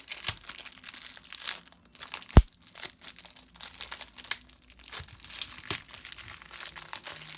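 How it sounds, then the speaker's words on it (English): Plastic wrapping is peeled and pulled off a 5x5 puzzle cube, close-up crinkling and rustling in irregular bursts, with a few sharp snaps and crackles. "Let's just get this plastic off."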